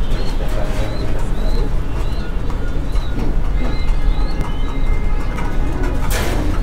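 Magpie pigeons coo softly in short repeated calls over a dense, steady background rumble, with faint voices mixed in.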